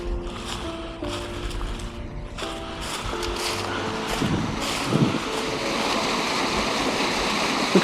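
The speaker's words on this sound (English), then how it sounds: "It's bubbling out of the ground here." Discharge water from an old mine wells up out of the ground at a creek site, a continuous rushing, bubbling flow close by that grows slightly louder, with a few brief tonal chirps and knocks early on and no voices.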